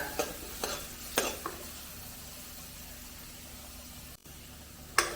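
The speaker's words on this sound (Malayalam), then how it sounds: "ഇഞ്ചി വെളുത്തുള്ളി ഒന്ന് ചെറുതായിട്ട് മൂത്ത് മണമൊക്കെ വരുന്നുണ്ട്" Ginger and garlic fry in a pan with a soft continuous sizzle, punctuated by several sharp scraping stirs of a utensil against the metal.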